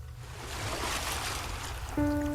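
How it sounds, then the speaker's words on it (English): Ocean waves wash and swirl in a soft, continuous hiss of moving water, fairly quiet and steady, with a faint tonal hum creeping in near the end. "Notice the differences in the waves. the rhythms and patterns within the sounds and the swirling water."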